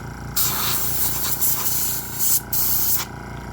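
An airbrush gun sprays paint while weathering model railway rolling stock, giving a close, steady hiss that comes in bursts with a couple of short pauses between them.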